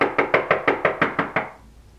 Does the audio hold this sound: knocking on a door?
yes